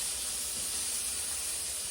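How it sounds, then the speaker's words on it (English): Food toasts in a pan on a Coleman camp stove, giving a steady, close sizzle and hiss that holds even throughout, with no talk. "I'm just gonna kind of toast that a little bit, just a little bit, before I add my bacon."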